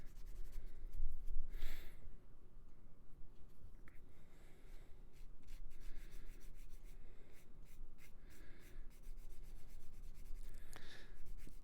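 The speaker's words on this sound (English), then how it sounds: "I'm just giving this one a quick once over with the sanding stick" Steady scratchy rubbing of a fine sanding stick against a small hard plastic model kit part, with short strokes repeating at close range.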